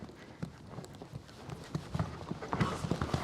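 Horse hooves trotting in a cross-country jumping session, a quiet, rhythmic run of soft thuds on turf with faint background sound.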